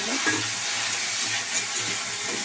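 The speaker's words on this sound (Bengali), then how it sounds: "একটু চিড়ে গুঁড়ো দিলাম পুড়ে যাচ্ছে একটু জল দিয়ে দিই" Ground flattened rice sizzles and crackles in a hot pan as a little water is added, giving a steady frying hiss with faint stirring scrapes close by.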